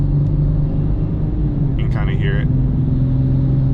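A Toyota Supra 3.0 with an aftermarket intake idles nearby with a steady, deep rumble, while someone speaks briefly over it partway through.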